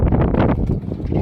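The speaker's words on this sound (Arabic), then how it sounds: "دي من جوه عشان الهوا جامد النهارده" Strong wind buffeting a microphone outdoors beside a parked car, a continuous loud low rumble with gusty surges throughout.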